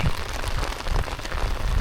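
Steady rain falls on a walk home past a house, a broad dense patter with low thumps of heavier drops, close and fairly loud throughout with no voices.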